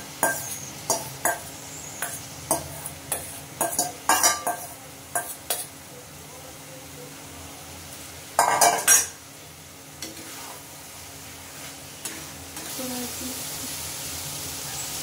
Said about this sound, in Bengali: এই ম্যারিনেট করা এঁচোড়টা দিয়ে দিচ্ছি।